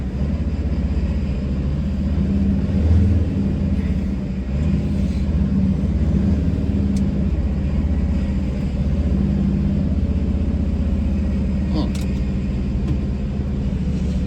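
A Mercedes Sprinter van engine holds steady at about 2,000 rpm in traffic, a continuous low rumble and drone with occasional faint rattles, no voices.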